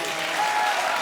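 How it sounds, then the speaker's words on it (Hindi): A comedy stage audience bursts into applause, a dense, close wash of clapping that holds steady for about a second. "ताली बजा बेटी के लिए"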